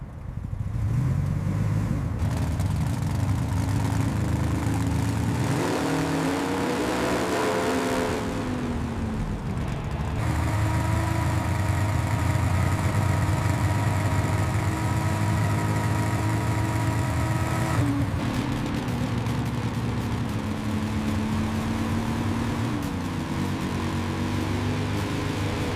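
A restored Shelby GT500 "Eleanor" idles and drives in Iceland, a steady, loud engine drone that swells and shifts in pitch, with a brief quieter lull partway through before the roar returns, no talk.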